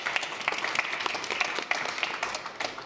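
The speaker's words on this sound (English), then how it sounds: "Firstly, a round of applause for the panel," Short round of audience applause for a panel at a corporate discussion event, made of distinct sharp claps that thin out toward the end.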